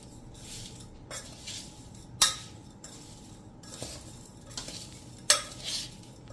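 A spoon stirs sweet mango pickle with grated jaggery in a metal pot, making soft, rhythmic scraping swishes about once a second, with two sharper metallic clinks against the pot, quiet and close with no talking.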